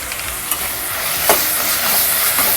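Chili powder and garam masala sautéing in a hot pan for coconut rice with paneer butter masala, giving a steady close sizzle with a few stirring scrapes and clicks throughout.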